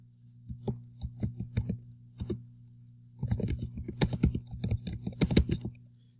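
Typing on a computer keyboard while entering data into a spreadsheet, with sparse separate keystrokes at first, then a quicker, denser run of clicks, close and clear over a steady low hum.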